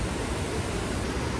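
Water rushing fast at Kalammawadi dam makes a loud, steady roar heard up close, an unbroken wash of noise with no other sounds standing out.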